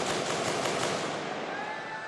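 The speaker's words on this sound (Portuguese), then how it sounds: "As rajadas de fuzil podiam ser ouvidas de longe." Rapid bursts of rifle fire during a shootout in the Pavãozinho community at Copacabana beach, a dense, continuous crackle of shots echoing from a distance, loud and unbroken.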